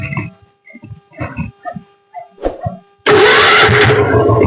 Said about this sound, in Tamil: இப்போ நான் வண்டி செல் போட்டு காட்டுற பாருங்க.